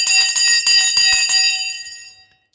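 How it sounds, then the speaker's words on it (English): A bright metallic bell rings loudly in rapid repeated strikes for over a second, then its ringing tone fades away into silence. "The bell is gone."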